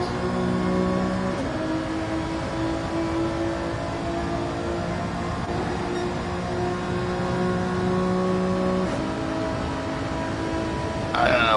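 Race car engine in Gran Turismo 7 during a Mazda/Alpha league race, a steady whining drone with tonal pitch steps like gear changes, under a commentator's voice throughout.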